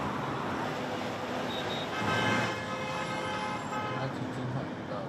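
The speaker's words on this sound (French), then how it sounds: "c'est concert de klaxons." Car horns honking in rush-hour traffic in a Chinese city, several short toots and longer blasts over a steady roadway rumble, with a louder swell of horns midway.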